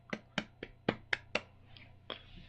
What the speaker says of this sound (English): Let's all give him the clap.